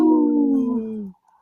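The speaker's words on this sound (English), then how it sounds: "don't know if Mary howled." A single long, loud howl with a steady falling pitch, sustained for about a second before cutting off abruptly, heard alone and close up, fitting a wolf.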